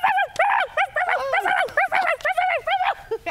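A pet dog at home gives a rapid run of short, high yipping barks, close and insistent, in an even rhythm over a few seconds.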